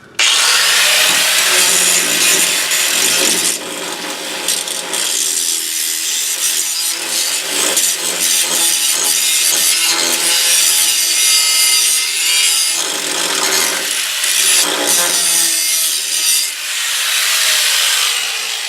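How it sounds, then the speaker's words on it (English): Disc grinder working over rough cut edges on the steel frame of a 2000 Ford Ranger during a rear spring hanger replacement, a loud continuous abrasive whine and rasp running almost the full length with brief dips as pressure shifts. "I'm going to use a disc grinder to clean up the rough edges."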